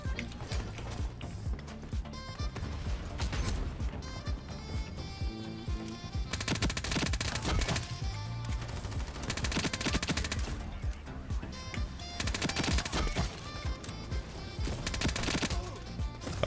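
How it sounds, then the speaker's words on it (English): Rapid automatic gunfire and mechanical clatter from the online shooter game Ironsight, dense bursts throughout at a fairly faint overall level. "I hear them shooting a teammate."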